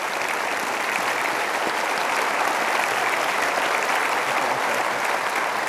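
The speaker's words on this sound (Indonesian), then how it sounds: "Kita berikan aplaus." An indoor audience at an awards ceremony applauds continuously, a dense and even wash of clapping hands that stays loud and steady throughout without any talk.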